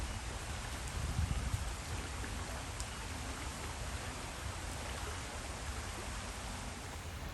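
Heavy rain pouring down steadily in Scotland, a dense, even hiss close by with no talk.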